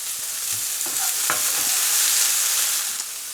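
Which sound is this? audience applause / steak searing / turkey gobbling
steak searing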